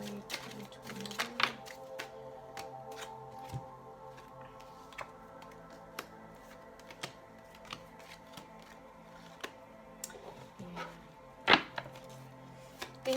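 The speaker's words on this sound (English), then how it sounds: "One more shuffle and we'll get started." Soft papery shuffling and riffling of tarot cards with scattered sharp taps and flicks, close and quiet, no talking.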